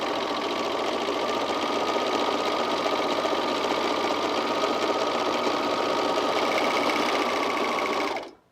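Sewing machine stitching T-shirt fabric, a loud, steady, fast mechanical whir and needle chatter running continuously before stopping abruptly at the end.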